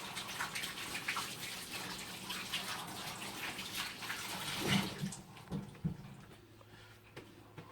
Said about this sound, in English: Now I got to wash Bill's hands again.